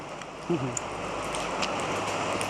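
Heavy rain pours down outside a house near a temple, a steady hiss of drops on surfaces filling the whole stretch at moderate level, with a brief voice and a few faint clinks partway through.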